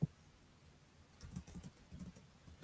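Quiet computer keyboard typing, a soft burst of rapid clicking keystrokes after a short pause, close and faint with no talk.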